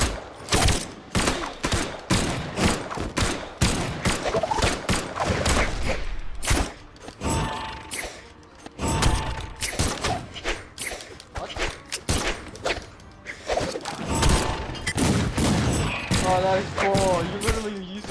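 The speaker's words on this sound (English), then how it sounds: "Like some super power gun" A rapid barrage of punchy gunfire and impacts from the Brawlhalla fighting game, near and loud, with dense repeated bursts and brief gaps, mixed with game effects and a bit of voice.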